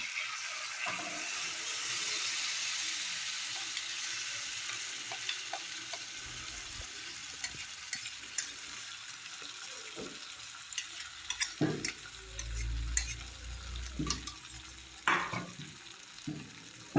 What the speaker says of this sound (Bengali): তেলে কষিয়ে নেব।